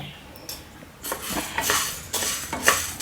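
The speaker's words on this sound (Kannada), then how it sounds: "ಈ ರೀತಿಯಾಗಿ ಒಂದು ತಟ್ಟೆ ಹಾಕಿ ತಣ್ಣಗಾಗಲಿಕ್ಕೆ ಬಿಟ್ಟರಾಯಿತು" Several sharp metallic clanks and scrapes of cookware, like a plate set down over a pan, over a faint background hiss.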